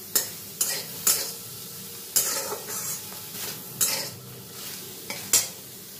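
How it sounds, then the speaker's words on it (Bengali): Whole spices dry-roasting in a hot pan with no oil, a faint low crackle broken by sharp scrapes and clinks of a spatula stirring against the metal every second or so, with no talk. "হালকা করে ভাজা ভাজা করে নেব"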